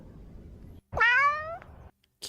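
A cat gives a single clear, drawn-out meow close by, rising then falling over about half a second, with a faint low rumble before it and near-silence after.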